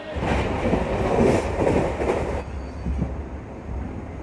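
The Bihar Sampark Kranti Superfast Express rolls along with a loud, continuous rumble of wheels and carriages, which drops to a lower, steadier hum partway through; heard from on board, close, with no talk.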